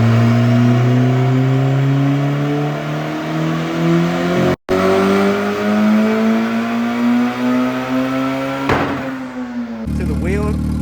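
A Honda EG hatchback with a new exhaust setup, tuned on E85 to about 300 horsepower, revs loudly nearby with rising and falling engine pitch, a brief cut midway and a final burst.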